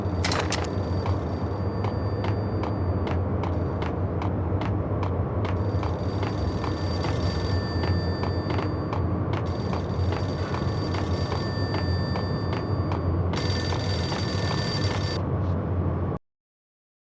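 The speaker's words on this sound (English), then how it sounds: "The payphone started to ring." Payphone ringing in the Max Payne video game, a steady repeated electronic bell over a dense low background hum, continuous for about sixteen seconds before cutting off.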